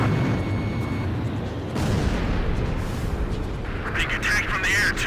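Anti-aircraft gunfire in the video game Ace Combat 5 forms a loud, dense, continuous barrage of rumbling bursts and booms that fills the whole stretch without pause.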